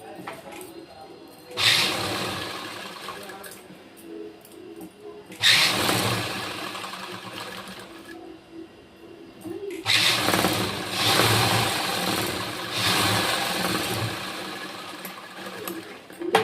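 Sewing machine running a firm straight seam along a marked line on an embroidered blouse sleeve, in three bursts of close, steady whirring separated by short pauses, with talk at moments.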